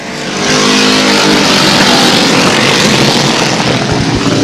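Race cars roar around Airborne Speedway oval in 1999, with loud, steady, continuous engine noise swelling in at the start and holding close and dense throughout.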